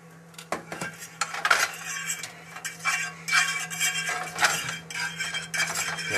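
Butter is spread across a pan with a utensil before eggs go in for a fluffy omelette, giving close metallic scrapes and clinks over a soft sizzle, loudest in uneven bursts, without talk.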